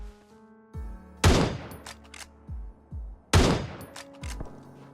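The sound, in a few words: Winchester rifle gunshots in video game PUBG Mobile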